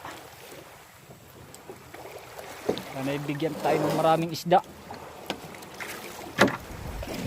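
A boat motor chugs close by beneath wind buffeting the microphone, while a person speaks over the engine noise.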